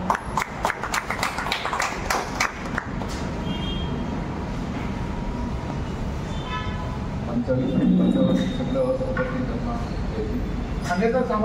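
Applause from an audience at a public speaking event, a burst of scattered claps at the start that thins out, followed by a noisy room with murmuring voices and some background hum.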